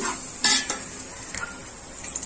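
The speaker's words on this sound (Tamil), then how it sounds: "மூணு பச்சை மிளகாய் போட்டுக்கோங்க. போட்டு நல்லா கிண்டி வாங்க." Green chilies are stirred into mutton biryani masala in a pot, giving a close hiss of sizzling with a couple of sharp scraping strokes, Chennai style, no talking.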